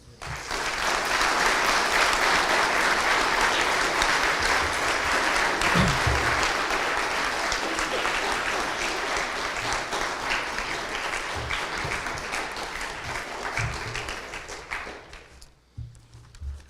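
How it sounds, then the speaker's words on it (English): A crowd at a fall sports school assembly applauds in a long, loud wash of steady clapping that carries on for many seconds before thinning out and fading near the end. "Let's applaud that."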